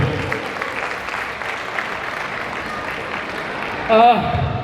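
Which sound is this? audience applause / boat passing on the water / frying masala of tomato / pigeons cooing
audience applause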